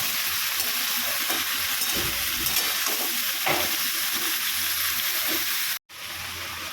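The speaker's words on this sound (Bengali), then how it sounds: "এবার ভালো করে নাড়াচাড়া করে ভেজে নেব" Pumpkin and snake gourd strips fry in a pan with a steady broadband sizzle, stirred now and then with soft scraping, close and continuous with a brief dropout near the end.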